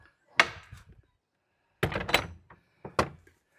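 An old church door in a rural hamlet swung shut, with three distinct heavy wooden thuds and clunks spaced apart, close and solid, with brief rattling after each impact and quiet between.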